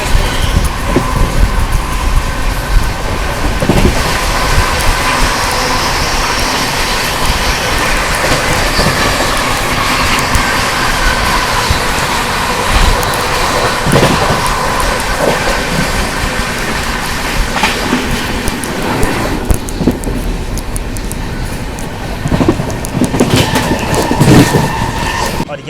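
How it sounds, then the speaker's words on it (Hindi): From aboard the 12314 New Delhi–Sealdah Rajdhani Express overtaking the Anand Superfast Express through Chinar Junction, a loud, continuous rumble and clatter of wheels on rails runs throughout, with sharper knocks over track joints. "क्रॉसिंग चिनार जंक्शन रेलवे स्टेशन, जहाँ हम लोग ओवरटेक कर रहे हैं उदयपुर सिटी टर्मिनल आनंद सुपरफास्ट एक्सप्रेस को"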